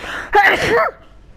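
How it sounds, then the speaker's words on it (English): A single sharp sneeze-like burst, close and fairly loud, with a quick breathy onset and a short voiced tail, then quiet. "Just had to sneeze."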